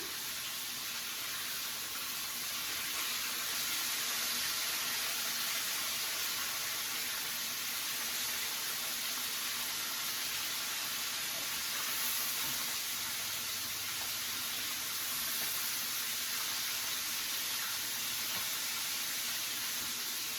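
Steady broadband sizzling hiss of chicken frying in a hot pan, continuous and even throughout with no talking.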